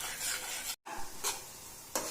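An egg and milk mixture fries in hot ghee while it is stirred in the pan. A soft, steady sizzle runs throughout, broken by a brief silent gap and a few scraping strokes of the spoon.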